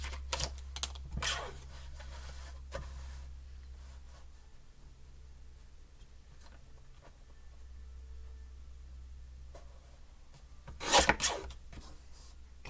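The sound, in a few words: cutting paper for a tag and holder craft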